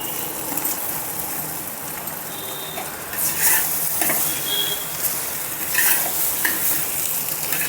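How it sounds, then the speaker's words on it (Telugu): Butter with garam masala sizzling and melting in a pan for egg chapathi, a steady soft crackle with occasional louder stirring bursts, close by and without talk. "ఇలాగంతా బటర్ కరగాల."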